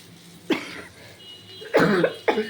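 A woman coughs several times in a kitchen, three harsh close bursts, the last two longer and closer together.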